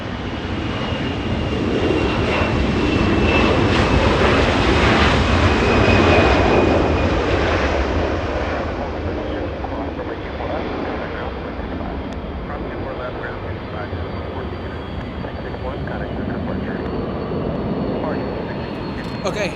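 Qantas jet airliner departing Los Angeles International Airport, a loud broad engine roar that builds, peaks and then slowly fades into a lingering rumble, with radio chatter faint beneath.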